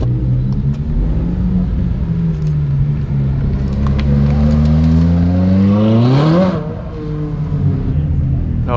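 Loud cars rolling up at a hypercar gathering, one engine droning and then revving sharply upward before cutting off, with a quieter idle afterward and no clear talking.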